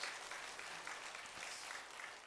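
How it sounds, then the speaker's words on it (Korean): A church congregation applauds its Sunday school teachers, a dense, even patter of many hands clapping steadily throughout, heard somewhat distantly in a large hall. "우리 수고하는 교사들을 위해서 한번 박수로 감사의 마음을 전해주시기 바랍니다"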